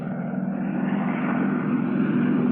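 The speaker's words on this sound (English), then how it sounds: "That's an airplane." A fixed-wing propeller airplane drones steadily overhead, a continuous engine hum holding even and fairly loud throughout with no voices.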